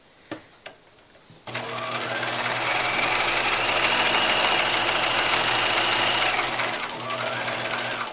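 A sewing machine stitches a pajama pant seam, a couple of sharp clicks giving way to a loud, close, continuous motor whir that eases slightly toward the end.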